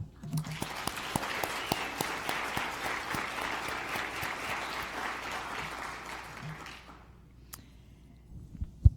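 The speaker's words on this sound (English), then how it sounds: "let's please give this year's contestants a big round of applause" An audience applauds competition contestants, a full, even round of clapping lasting several seconds before fading out abruptly, followed by a few quiet thuds and a brief silence.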